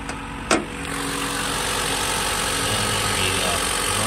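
A 2017 Mitsubishi Outlander SE engine idles steadily and close, a smooth even hum after a brief clunk near the start, with no speech over it.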